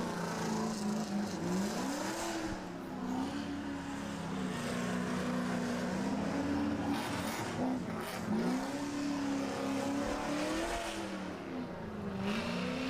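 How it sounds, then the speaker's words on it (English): Nissan drift car on the Yas Marina F1 track during a drift championship qualifying run, engine droning loud and close with a steady high rev that swoops up and down repeatedly as the throttle opens and eases through the slide. "Opens up the throttle now, goes back across the track for outside zone 6 and across the line"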